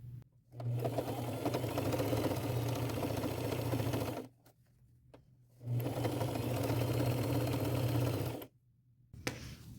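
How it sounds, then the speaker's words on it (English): A sewing machine runs a straight stitch through denim in two long steady bursts of rapid whirring, each about four seconds, separated by short pauses, close and even. "I'm going to take it to my machine and sew it shut with a straight stitch"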